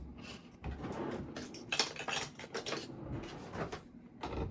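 A teaspoon is pulled from a drawer in a tiny house kitchen, with metal cutlery clinking and rattling in a few quick clusters, nearby and moderately loud, with no voices.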